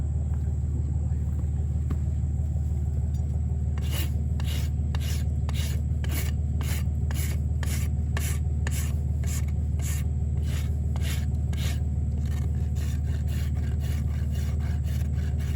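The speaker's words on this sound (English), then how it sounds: "Get our rasp." A rasp files the hoof of a foundered donkey in a run of about fourteen regular, rhythmic scraping strokes, close and clear over a constant low rumble.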